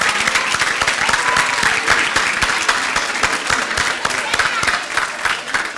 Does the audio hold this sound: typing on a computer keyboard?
no